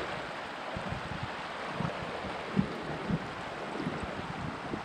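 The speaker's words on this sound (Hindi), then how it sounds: "ये पानी का करंट आप सुन सकते हो" Rushing current of a mountain stream beside a zigzag walking trail in East Sikkim, a steady broadband roar of flowing water with wind buffeting the microphone and a few louder thumps.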